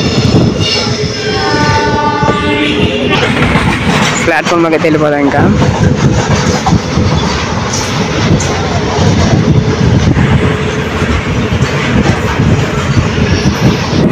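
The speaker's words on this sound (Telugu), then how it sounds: "ఇప్పటికే ట్రైన్ డిలేలో ఉందంటే ఇంకా స్లో చేస్తున్నాడు." A delayed Narasapur Express slows on its approach to Kaikaluru near the railway gate, giving a loud, steady rumble of rolling wagons with a brief horn-like tone early on, while people talk over it throughout.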